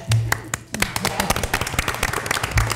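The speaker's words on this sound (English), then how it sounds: "We should applaud her." An audience claps at a school board meeting in a meeting room: a burst of scattered, overlapping hand claps rising into steady applause, with a low voice briefly underneath at the start and end.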